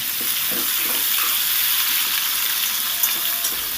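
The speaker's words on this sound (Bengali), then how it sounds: "এবার ওই তেলেতেই দিয়ে দেবো লম্বা লম্বা করে কাটা আলুগুলো আলুগুলোকে দিয়ে সুন্দর করে ভেজে নিতে হবে" Long-cut potatoes fry in hot oil for a bhindi aloo curry, giving a close, continuous sizzling hiss with faint scraping and a soft clink near the end.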